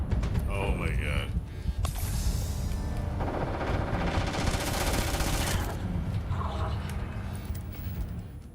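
Rapid bursts of gunfire crackle through a firefight in the video game Starfield, with sharp volleys and a longer sustained barrage in the middle, layered over game ambience and some voices.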